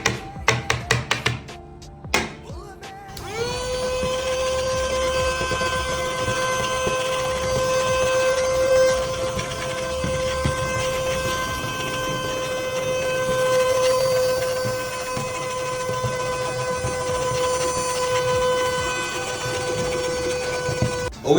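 A small 3-in-1 vacuum cleaner starts after a few seconds of handling clatter, then runs with a steady, close, high-pitched motor whine that holds for the rest of the clip, with no talk.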